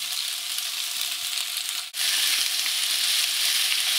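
Udon noodles, vegetables and squid fry over high heat in a loud, continuous sizzle that briefly drops out as food is tossed, then roars back even stronger.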